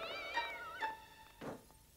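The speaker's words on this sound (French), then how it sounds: "e ne sont pas des bêtes, Madame Rottenmeier, juste des chatons!" Several short, high kitten meows in quick succession, close by, followed by a soft thump.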